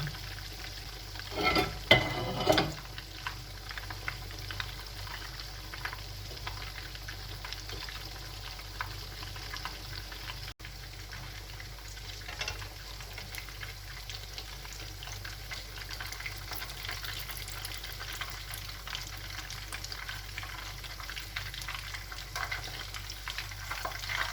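Calf testicles frying in a pan, with a steady close sizzle running throughout and a brief louder burst of stirring or turning near the start.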